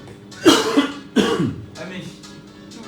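Two sharp coughs in quick succession, close to the microphone, followed by faint background murmur.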